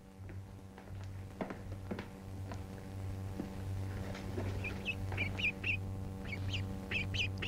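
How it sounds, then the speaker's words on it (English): Baby turkeys chirping, small high peeps in quick repeated bursts that grow busier toward the end, faint and close over a low steady hum with a few soft knocks. "Baby turkeys."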